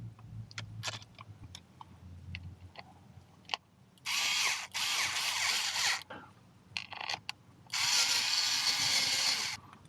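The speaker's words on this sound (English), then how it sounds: "Tighten it as much as you need to so it doesn't come out or come loose." A cordless power tool drives a bolt on a cover of a KTM Duke motorcycle while a USB power accessory is installed: scattered light clicks and taps, then two sustained loud whirring runs of a few seconds each, close up.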